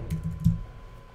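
Typing on a computer keyboard in an Illustrator text tool setting, a brief burst of a few soft close key taps over a quiet background.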